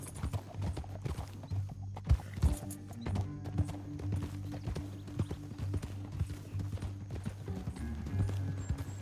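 Horse hooves in Red Dead Redemption 2 clip-clop in an uneven rhythm close by, with occasional heavier thuds over a low droning background.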